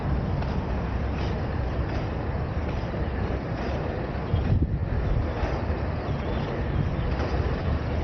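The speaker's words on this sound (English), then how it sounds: "Going south, most likely going to face a headwind." A steady, loud headwind buffets the microphone during an urban inline skating ride heading south, a continuous rumbling wind noise with no talking.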